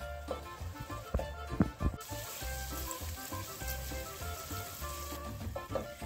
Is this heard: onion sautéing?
yes